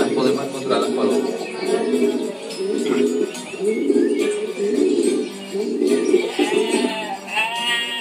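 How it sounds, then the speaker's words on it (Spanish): Pigeons coo on the roof of a cave house in a Canary Islands village, a rhythmic throaty warble repeating in phrases, near and steady, with higher bird calls toward the end. "ahora estamos oyendo el arrullo de las palomas que están allí sobre la tienda, sobre la casa Cueva"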